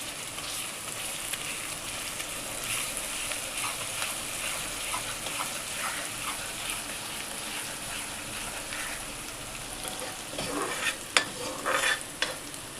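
Ginger garlic paste sizzling in a hot pan while being stirred, a dense continuous frying hiss with scraping stir sounds growing louder and more clattery toward the end, no talk.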